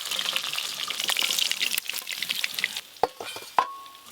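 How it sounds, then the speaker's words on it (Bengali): Pieces of snakehead fish fry together in hot oil. A close, bubbling sizzle fades a little toward the end and is broken by a couple of sharp metallic knocks from a utensil against the pan. "এই মাছগুলো একসঙ্গেই সব ভাজা হয়ে যাবে।"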